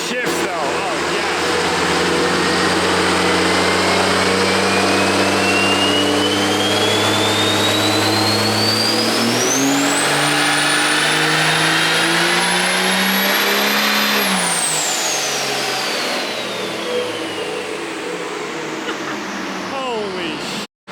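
A twin-turbo Cummins diesel engine revs hard on a dyno, its loud roar climbing with a rising turbo whine that holds near the top and then drops away as the engine winds down, with voices faintly under it.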